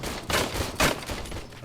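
A service pistol fires two sharp, loud shots about half a second apart at a test range in the video game Robocop: Rogue City, each with a short ringing tail.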